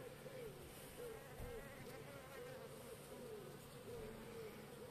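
A hornet buzzes inside a tent, a continuous wavering drone with slight rises and falls in pitch, faint and steady throughout with no talk.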